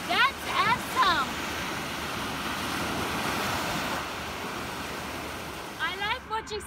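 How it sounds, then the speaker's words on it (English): Sea waves at the seaside make a steady, full roar of surf and wind that fills the whole scene, with a person speaking briefly over it at the start and end. "Look at the sea."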